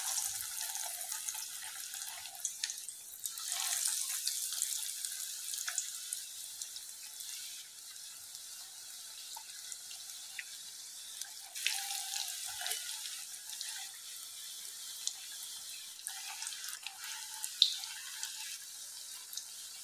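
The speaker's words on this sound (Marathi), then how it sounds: "आता आपण तेल गरम झालं की त्यामध्ये जे रोल करून घेतलेले आहेत ते तेलात छान तळून घेऊया।" Rolls fry in hot oil, giving a steady, hissing sizzle with faint bubbling and occasional crackles that continue evenly throughout, close by and with no voices.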